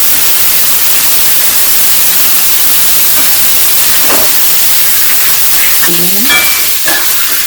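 Potatoes and black chickpeas dropped into frying onions, a loud, hissing sizzle close up, with a few faint clinks of stirring under the steady noise.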